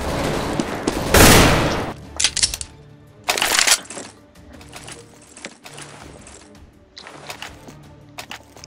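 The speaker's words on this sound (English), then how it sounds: "It's a shotgun, come on." Blasts from a MAG-7 shotgun in the game CS:GO: several loud, sharp booms spaced a second or two apart, one dominant shot followed by further bursts and clattering game effects.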